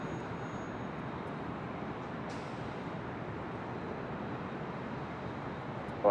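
Alaska Airlines Boeing 737-800 jet departing LAX for Seattle, a steady distant broadband engine roar blending with airport and city background noise, even in level with no voices.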